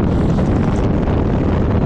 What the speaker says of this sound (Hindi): तेज हवा है